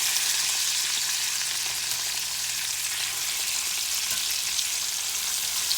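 Pork tenderloin searing in a hot pan, a steady, bright, even sizzle of frying meat close up, continuous with no talking.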